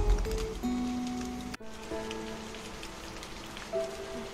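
Rain falling on a street, a steady hiss of drops with some tonal hum underneath and a brief dip midway, no voices.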